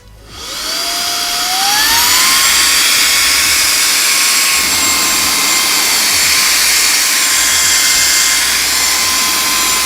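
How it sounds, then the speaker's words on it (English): A RAYCOP GO portable UV vacuum cleaner switches on and spins up to its high setting, settling into a loud, steady whine with a rising tone at start-up, running alone without speech. "Now let's turn on the vacuum."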